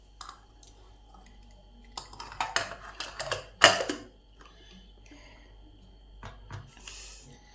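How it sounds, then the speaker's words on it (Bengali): A metal lid set onto a pot of chana dal with papaya in a kitchen, a cluster of clinks and scrapes peaking in one sharp clatter, then faint scattered clicks, close and quiet, no talking. "এবারে ঢাকাটা ভালো করে দিয়ে দিলাম।"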